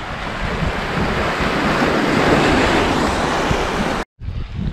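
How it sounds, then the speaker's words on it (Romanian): Strong, steady wind roars across the microphone at a shipwreck site on the Black Sea, with surf underneath, before cutting out briefly near the end. "Parcă aici bate vântul un pic mai tare, nu?"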